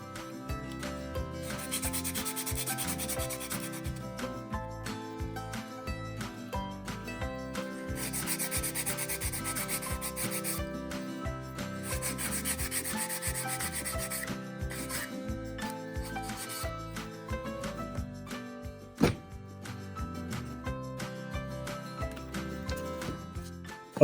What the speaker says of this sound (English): We'll just sand the parts so it will take the glue better.